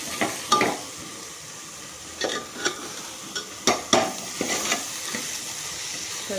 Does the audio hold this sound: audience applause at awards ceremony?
no